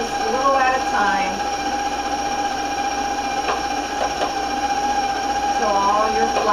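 An electric mixer runs at medium-low speed, mixing flour and dry ingredients into lemon pound cake batter, giving a steady whirring hum throughout while a voice talks over it.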